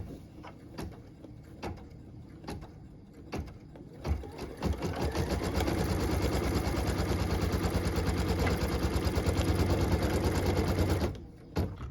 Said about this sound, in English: We're going to go ahead and stitch our cut line.